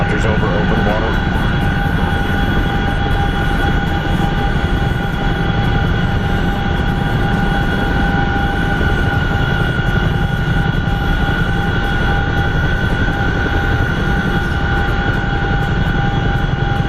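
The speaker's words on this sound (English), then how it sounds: "Man, I hate flying helicopters over open water." A helicopter in a video game flies low over open water, its steady engine and rotor drone loud and continuous throughout, with a constant whine on top and someone talking over it.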